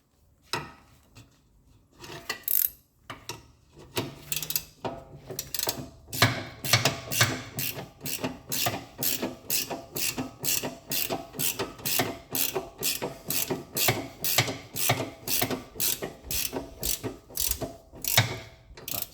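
Rapid ratcheting clicks of a spanner tightening a bolt on a Vauxhall Insignia rear upper suspension arm, starting in hesitant bursts then settling into a steady, close, rhythmic click-click run for many seconds.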